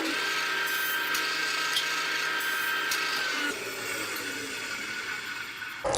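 A power saw makes a test cut through scrap wood in a woodworking shop, a steady high whine with a faint rasp of the blade in the wood. It drops in tone partway through, then cuts off abruptly.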